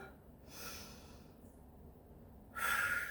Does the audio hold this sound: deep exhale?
yes